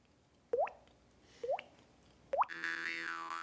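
A man makes a mouth sound effect imitating water: three quick, rising liquid plops spaced about a second apart, close and fairly quiet, the last one followed by a brief bubbling gurgle.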